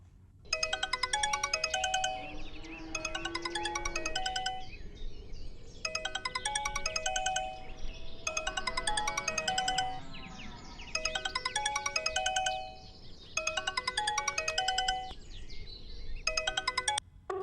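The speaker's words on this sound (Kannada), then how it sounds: "ರಿಂಗ್ ಆಗ್ತಾ ಇದೆ, ಮಾತಾಡು" A mobile phone ringtone plays a bright, chiming melody in repeated bursts with short gaps between them, clear and fairly close in a quiet room during a film scene.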